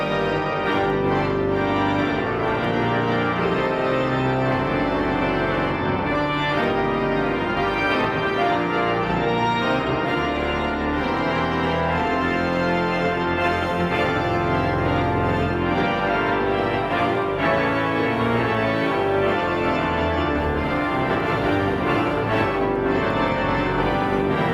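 Pipe organ in Aarhus Cathedral plays the opening of a big Widor organ symphony, dense sustained chords ringing loud and full through the church for the whole stretch, with no voices.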